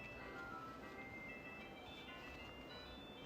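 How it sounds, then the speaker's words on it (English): Faint ice cream truck music plays as quiet, thin melodic tones over a steady background hiss, distant and low in level. "Sounds like ice cream truck music."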